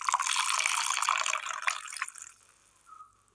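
Water poured for grinding a curry paste of cumin, garlic, green chilies and turmeric, a soft close trickling splash that tapers off into faint drips.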